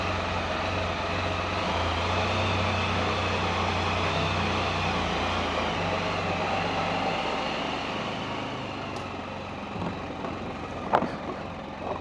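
A Can-Am Spyder backs slowly out of a 7-foot-wide enclosed trailer, its engine a steady low idle hum that fades slightly toward the end, with a few brief clunks and knocks near the finish.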